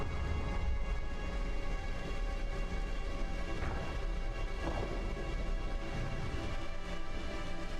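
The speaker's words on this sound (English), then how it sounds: "Okay, thunder and thunder." Thunder spell effect in the Final Fantasy Tactics video game, a sustained rumbling, crackling roar with rain-like noise that stays loud throughout and carries no speech.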